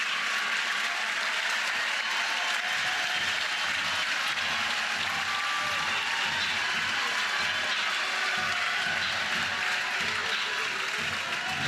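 A softball crowd at a Tennessee Volunteers versus Oklahoma Sooners game applauds and cheers a sacrifice bunt, a broad, sustained wash of clapping and crowd noise lasting several seconds, with commentary faintly beneath.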